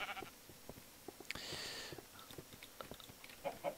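Sheep bleat in Minecraft, a blocky video game, with a bright sustained bleat near the middle and a couple of shorter calls toward the end, over soft scattered clicks and background noise.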